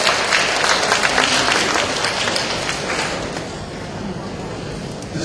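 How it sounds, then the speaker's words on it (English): A conference audience of Southeast Asian librarians breaks into sustained applause, a dense wash of many hands clapping that fills the hall and slowly tapers toward the end. "Give him a big applause once again."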